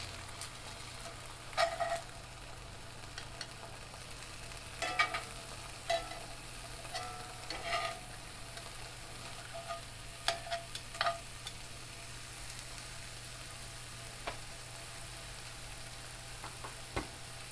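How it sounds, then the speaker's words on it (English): Ham slices cook down in a cast iron skillet for eggs Benedict, giving a faint, steady frying hiss broken by scattered soft clicks and pops at close range. "So just watch that ham cook down."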